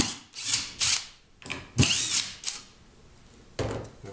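A power drill drives a screw into PVC in short whirring bursts, about six separate spurts with pauses between, close and loud with no talk.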